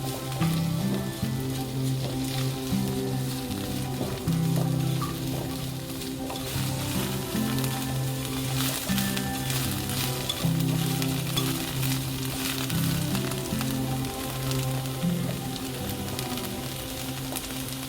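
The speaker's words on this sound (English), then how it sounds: "I'll fry this about 1 or 2 minutes to prevent this from getting too soft." Soy sauce noodle ingredients frying in a pan, a steady close sizzle with soft stirring scrapes running without a break over a low hum of background tones.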